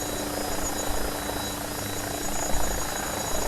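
AgustaWestland AW109SP helicopter in a flight simulator game, a steady broadband rotor and turbine roar that stays loud and constant the whole way through, with no talk over it.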